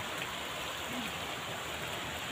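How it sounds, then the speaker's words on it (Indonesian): Heavy rain falling on a village in the morning, a steady even hiss of rain on surfaces, moderately quiet and continuous with no other distinct sounds. "turun hujan ya di Kampung Lewo Babakan ya"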